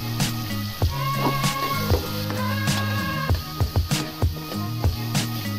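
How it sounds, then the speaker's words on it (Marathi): Soaked urad dal sizzling steadily in a hot pan with ground coriander, a dense continuous fry broken by regular scraping knocks of a stirring spoon. "भिजवलेली उडीद डाळ टाकूया।"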